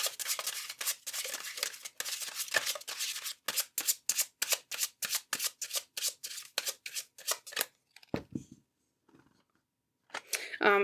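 Tarot cards are shuffled in rapid, rhythmic riffles and slaps close to the microphone, a steady run of crisp bursts that pauses briefly near the end before a final flurry.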